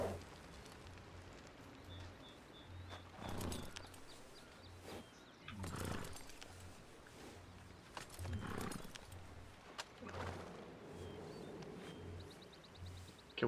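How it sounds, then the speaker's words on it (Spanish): Faint, regular horse hoof clip-clops in a Red Dead Redemption game world repeat steadily at a walking pace, set against soft ambient wilderness noise with a few brief louder swells. "Qué bonito es el caballo, en verdad"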